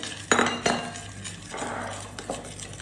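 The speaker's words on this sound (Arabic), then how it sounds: "ونحرك" Flour is stirred into a crab stick and milk mixture in a bowl, with a utensil giving a few sharp, close clinks against the bowl and softer scraping strokes in between.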